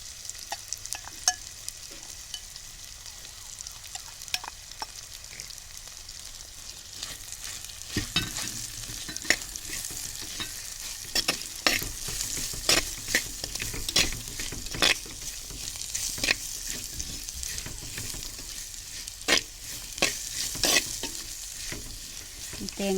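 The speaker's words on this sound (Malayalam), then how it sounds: "ഇനി ഇതിലേക്ക് നമ്മൾ അരിഞ്ഞു വച്ചിരിക്കുന്ന സവാള ചേർത്ത് കൊടുക്കണം" Chopped onions sautéing in a pan for a duck roast, a continuous bright sizzle broken by frequent sharp scrapes and clacks of a spatula stirring, close and busy throughout.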